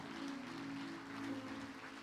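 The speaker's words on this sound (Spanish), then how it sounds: "Brindémosles un fuerte aplauso al Señor." A church congregation applauding during a service, a faint, steady wash of clapping with a low sustained tone droning underneath.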